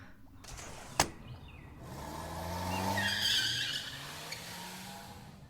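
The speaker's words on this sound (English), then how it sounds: "that sounds like Agnes's car" A car passes nearby with a rising then fading engine and tire rumble, preceded by a sharp click or thud.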